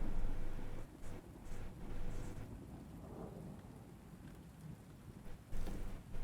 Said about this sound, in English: we got some ambience of rain